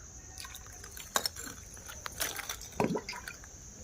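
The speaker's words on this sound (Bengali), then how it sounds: "দেখো ছাই ভরে দিয়ে দিয়েছি, এবার জল দিয়ে দিচ্ছি।" Water poured from close by into a plant pot packed with ash in a home onion garden, giving soft wet splashes and squishy trickles in a few short bursts; quiet, without talk.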